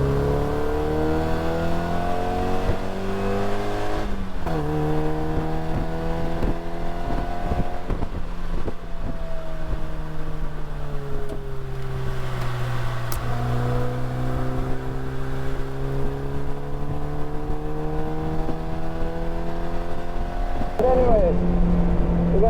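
A Mazda Miata's engine pulls hard and revs through the gears on the Alastaro Circuit race track in Finland, a loud continuous drone rising in pitch with wind buffeting, and a voice speaks over it briefly.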